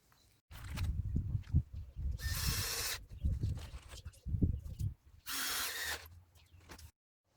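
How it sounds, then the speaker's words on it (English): Power drill driving two screws into timber for a DIY greenhouse frame, with two bursts of whirring drive, each preceded by close handling and clatter, loud and near. "I'm quickly going to put 2 screws inside here"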